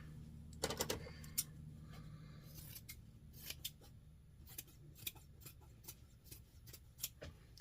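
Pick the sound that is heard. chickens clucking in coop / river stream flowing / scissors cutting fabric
scissors cutting fabric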